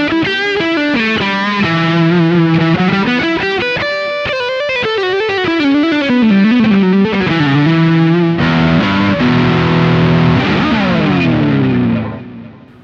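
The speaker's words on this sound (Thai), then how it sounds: "ต่อไปก็เป็นพิกอัพตัวเน็กนะครับ" Neck pickup of a black Aguda Resist 6NT metal-style electric guitar played alone through heavy distortion: loud, sustained melodic lines and slides, then ringing chords with a bend before the sound stops abruptly.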